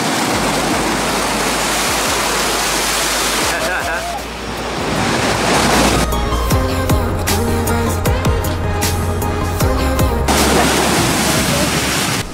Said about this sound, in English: you can hang out at this beach that has pretty good waves. The waves are massive.